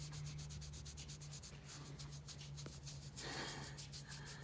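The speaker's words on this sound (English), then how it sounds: "Oh, we want shoulder scratches now." Steady rubbing and scratching of a hand over a horse's shoulder hair, close and continuous with soft rasping strokes throughout, no talk.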